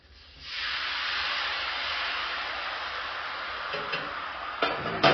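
Fresh eggs frying on a Blackstone griddle, a steady loud sizzling hiss that starts abruptly and holds, with a few faint ticks and pops near the end.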